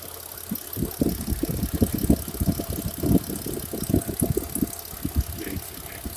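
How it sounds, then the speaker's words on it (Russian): A warmed-up Mitsubishi Pajero 4 petrol engine idles close by, with a steady, even stream of low rhythmic pulses and no voices. "Все, мотор работает ровно."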